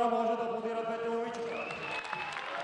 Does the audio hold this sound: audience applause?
yes